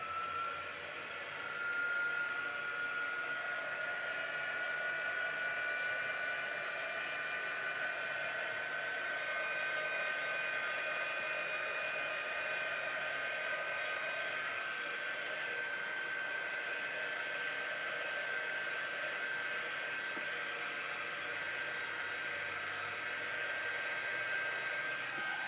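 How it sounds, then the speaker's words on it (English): A heat tool blows hot air to dry stenciled paint on a craft project. It gives a loud, steady whirring whine close by for the whole stretch, with no talking. "I do have my heating tool if I need to speed things up a little bit."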